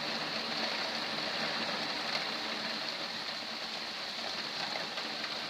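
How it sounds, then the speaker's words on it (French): Heavy rain pouring down outdoors in Lœuilly, France, in August, a steady, dense hiss of drops on surfaces that stays constant and moderately quiet throughout, with no voices. "Ah bah, il pleut fort par contre."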